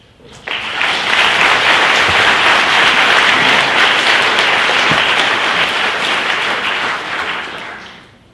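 Sustained applause from an audience at an expert panel discussion on artificial consciousness, welcoming a guest speaker onto the stage; dense, even clapping starts abruptly and runs about seven seconds before tapering off.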